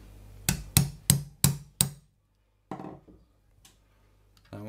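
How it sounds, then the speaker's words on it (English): Five sharp, evenly spaced hammer taps ring out on a Ruger 10/22 Anniversary Edition rifle part during a bolt lock modification, followed by fainter clicks and rustling of metal parts, close and without talk. "Oh, we need a hammer on that one."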